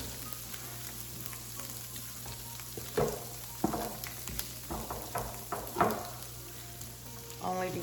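Vegetable oil frying in a pan while basil fried rice is cooked, a steady soft sizzle with a few sharper stirring scrapes and clatters that come and go.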